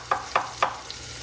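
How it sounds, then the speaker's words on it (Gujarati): Mustard seeds, cumin and asafoetida are tempered in hot oil, crackling in three quick sharp bursts over a soft steady sizzle, close and with no one speaking. "સાદો ને સિમ્પલ વઘાર કરશું ગાઈસ, રાઈ જીરા હિંગનો."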